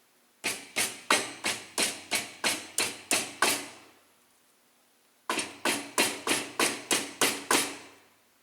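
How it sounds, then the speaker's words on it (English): A hammer taps a handmade metal fish gaff shaped against a pipe, striking two close, even runs of about ten sharp metallic blows each, separated by a brief pause. "I think I'm going to massage it with a hammer a little bit here toward the end"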